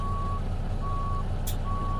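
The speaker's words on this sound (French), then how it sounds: "Au niveau du bruit des clignotants" A modded truck in American Truck Simulator clicks its turn signal over a steady low engine drone. The tone comes in evenly spaced electronic beeps and sounds close and clear, and one brief hiss passes midway.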